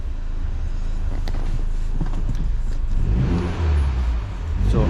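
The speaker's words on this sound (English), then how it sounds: "So let's give it a little rev, see how she sounds." A F56 MINI John Cooper Works engine, cold, is blipped in a couple of short revs while parked, a steady idle rumble swelling into a louder, rising burst near the end.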